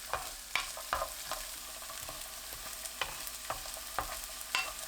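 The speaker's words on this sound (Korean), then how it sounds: "팬에 식용유 3큰술, 마늘 넣고 중불로 1분 30초 볶습니다." Garlic frying in three spoonfuls of cooking oil in a pan over medium heat, a soft continuous sizzle with regular scraping strokes of a utensil against the pan, fairly quiet and close.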